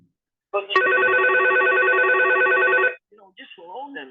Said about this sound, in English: The bat phone's ringing off the hook today, Glendora.